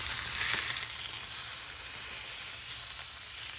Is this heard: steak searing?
yes